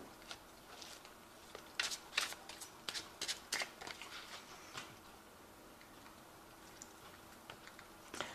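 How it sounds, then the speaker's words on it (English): A deck of tarot cards is shuffled close by in soft bursts of crisp riffling taps, with clusters of clicks at the start and scattered, fainter flicks later. "I have shuffled this deck,"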